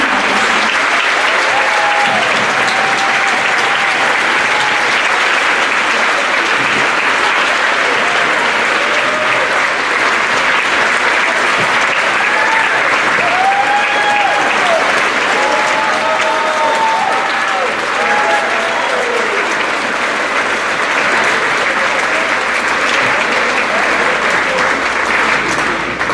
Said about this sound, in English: Please join me in giving these seniors one more round of applause for their hard work and talent.